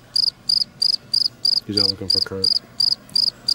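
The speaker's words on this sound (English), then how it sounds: "I hear crickets." Crickets chirping in a steady, regular pulse of bright, rapid trills repeating about three times per second, close and clear, with someone briefly talking over them midway.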